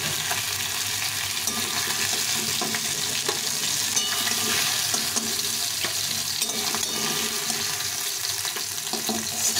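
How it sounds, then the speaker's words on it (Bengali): Fish frying red-brown in a kadai of oil, a steady broadband sizzle with faint stirring clatter, continuous and close, no voices. "মাছটা লাল করে ভেজে নিয়েছি, একদম লাল করে মাছটাকে ভেজে নিয়েছি।"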